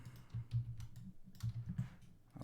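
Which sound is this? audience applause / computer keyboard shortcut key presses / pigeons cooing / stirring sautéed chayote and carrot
computer keyboard shortcut key presses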